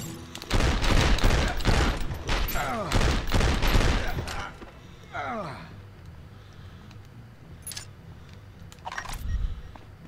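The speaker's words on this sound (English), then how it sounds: "Who's shooting me?" Gunfire in 24: The Game on PlayStation 2: a rapid barrage of loud, close shots over the first four seconds, then scattered single shots and ricochet-like whines fading into quieter background, with a couple of later reports.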